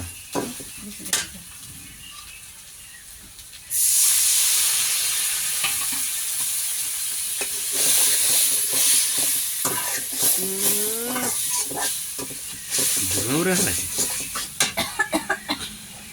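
Pangas fish bhuna cooks on a clay stove; after a quiet start, a loud sizzle erupts and continues under scraping, clinking stirring strokes, with brief voices or calls near the end.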